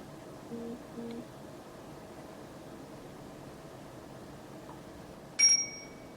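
A single short, bright electronic chime sounds near the end over a quiet, steady background hum.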